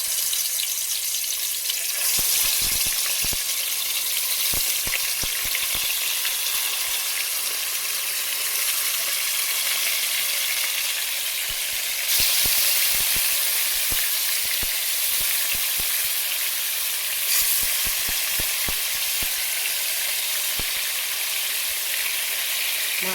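Marinated shapla pata fish pieces frying one by one in a pan of hot oil produce a loud, constant hissing sizzle with scattered crackles and pops, swelling in a few bursts as pieces go in.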